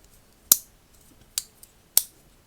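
The small scissors of a Roxon KS2 Elite multitool are handled close up, giving three sharp metallic snips spaced apart, plus a faint click, in a quiet room.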